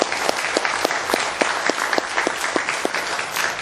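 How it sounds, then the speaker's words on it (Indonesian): Audience applause at a product presentation: steady clapping from a crowd filling the room, moderately loud and even throughout, with no speech over it. "Tepuk tangan buat Portir."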